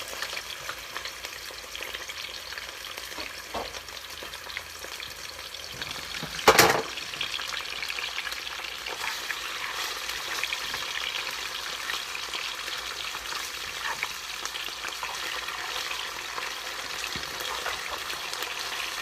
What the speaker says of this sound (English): all those potatoes we chopped up, we're gonna throw them in the pan